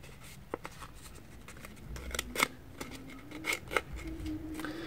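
Paper is creased and folded while making a paper airplane: soft scattered rustles and a few sharp crisp crackles, close and fairly quiet, with no talking.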